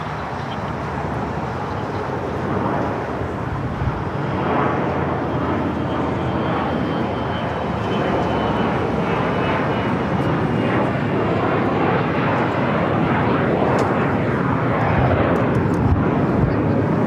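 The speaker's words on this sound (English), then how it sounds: "Also Virgin Atlantic Flight 8 heading back to London Heathrow in an A350-1000." A Virgin Atlantic Airbus A350-1000 taking off at LAX, its jet engines making a loud, steady roar that swells slightly across the whole stretch, with faint speech beneath it.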